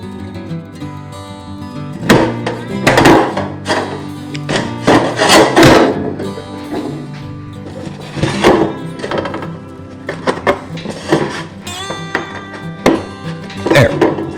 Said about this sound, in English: Sometimes it takes some minor adjustments to get these flexible aluminum gutter edges into place.